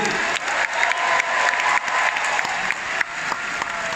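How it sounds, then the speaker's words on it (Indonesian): Audience at a political rally convention clapping for Bu Siti, a dense, steady round of applause heard close, with a few sharper claps standing out and no talk over it. "Tepuk tangan untuk Bu Siti."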